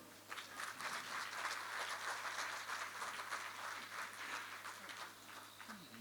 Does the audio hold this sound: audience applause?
yes